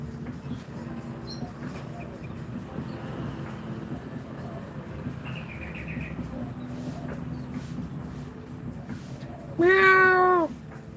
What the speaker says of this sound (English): This little cat's still over here hunting away.